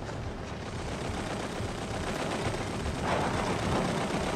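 Machine gun fire in the horror video game Outlast, a dense, continuous rattling burst that fills the whole stretch at steady loudness.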